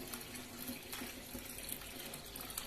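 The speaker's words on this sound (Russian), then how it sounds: "И переливаем наш бутыль." Homemade mulberry wine trickles and splashes steadily as it is poured from one bottle into another, a continuous close liquid rush at moderate volume with no voices.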